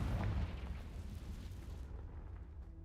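A Confringo spell blast from the Hogwarts Legacy video game, heard as a single heavy explosive boom at the start that rumbles and slowly fades, with no talking over it.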